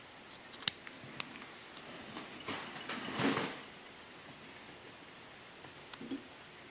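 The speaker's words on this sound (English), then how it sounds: "I'm going to trim the legs just a little bit." Small scissors snip the rubber legs on a stonefly fly being tied, a few quick sharp clicks and cuts spaced apart with light rustling at a close, quiet bench.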